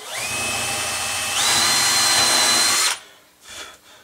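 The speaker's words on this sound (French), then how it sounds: "Pour percer celui-là, ma foi, ça va le faire." A power drill bores into a wooden board, its motor whining steadily and stepping up in pitch partway through before stopping abruptly, followed by a few faint knocks.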